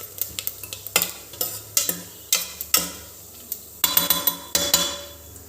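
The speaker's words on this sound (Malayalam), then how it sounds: "ഇത് വെച്ചാണ് നമ്മൾ ജസ്റ്റ് ഒന്ന് ഫ്രൈ ചെയ്യാൻ പോകുന്നത്" Cooked ration rice is being fried with ghee in a pan, Kerala style, as a spoon scrapes and stirs it. The sharp clicks and scrapes come in an irregular run over a soft sizzle, close-up with no talking.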